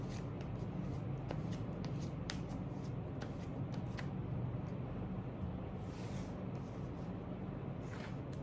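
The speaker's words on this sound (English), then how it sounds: "think about your person while I shuffle the cards for you." Steady papery riffling of tarot cards being shuffled, with crisp repeated snaps and flicks, continuous and close up, no voices.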